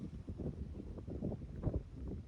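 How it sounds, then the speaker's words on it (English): Gusty wind buffets the microphone with low, uneven rumbling and roar, no other clear sounds. "It's mad windy today."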